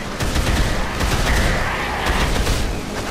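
Assault rifle gunfire in the zombie game Dead Island: Riptide, rapid loud automatic bursts of shots rattling off in quick succession, close and sharp, with dense overlapping reports and no talking.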